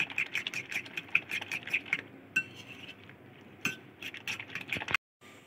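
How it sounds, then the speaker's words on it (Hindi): A fork beats a vegetable and egg mixture in a bowl for vegetable bread toast, giving quick, rhythmic metallic clinks and taps that run steadily, then pause briefly and resume, with no talking. "उसके बाद फोर्स की हेल्प से इसको अच्छे से फेंट लेंगे।"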